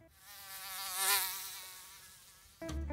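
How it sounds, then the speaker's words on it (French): A mosquito whines close by with a wavering, high-pitched drone that swells and fades over a few seconds, followed by a sudden low thump near the end. "Il y a un putain de moustique"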